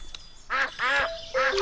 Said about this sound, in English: We are at the pond, and here come the ducks.